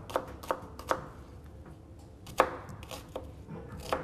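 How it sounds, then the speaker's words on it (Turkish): Onions are diced with a knife on a cutting board in a kitchen, sharp crisp chops landing in an irregular rhythm, some in quick pairs, loud and close with no talk. "Soğanlar şu anda küp küp doğranıyor efendim."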